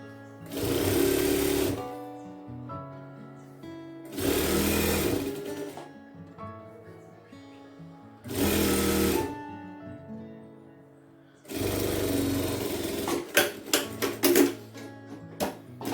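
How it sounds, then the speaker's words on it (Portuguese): A sewing machine stitches a folded fabric seam in four loud bursts of rapid, even running separated by pauses, the last burst breaking into a few separate stitches, close and alone with no talk. "eu vou dobrar e passar uma costurinha aqui, ó"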